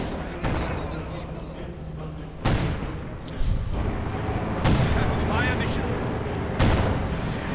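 An incendiary artillery barrage in a real-time strategy game, with several heavy booming impacts and rumbling blasts spaced a second or two apart under a continuous battle din, while a commentator talks throughout.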